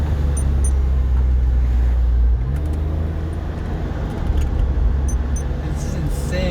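Heard from inside the cabin, a 2001 Porsche 911 Carrera 4 (996) engine drones low and loud, then its pitch jumps partway through as the car downshifts, with faint small rattles over the steady road noise.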